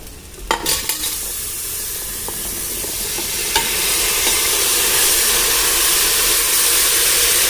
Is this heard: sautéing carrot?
yes